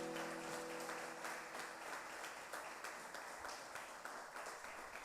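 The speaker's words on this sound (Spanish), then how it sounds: "Denle un aplauso, Señor," A church congregation breaks into sustained applause, a dense wash of many hands clapping steadily throughout, with a brief held musical tone underneath at the start.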